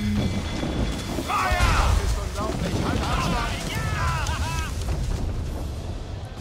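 Ship cannons fire in Assassin's Creed Black Flag during a naval battle, heavy booms rumbling amid wind and sea noise, with shouted commands from the crew.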